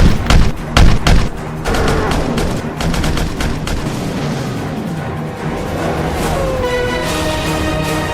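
Gunfire erupts in a Pakistani action movie scene, with loud close bursts of rapid shots and booming blasts at the start, then continuous firing mixed with a dramatic soundtrack.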